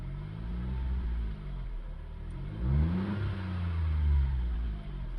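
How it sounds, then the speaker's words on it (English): A Smart ForTwo 450 with its small turbocharged engine idles and is blipped in a couple of swelling revs, a low throaty rumble rising and falling close by, with no talking. "give it a bit of a rev."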